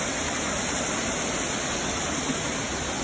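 Waterfall at the bottom of a set of three falls in Boone County, Arkansas, pouring in a steady, dense, unbroken roar that holds at an even level throughout.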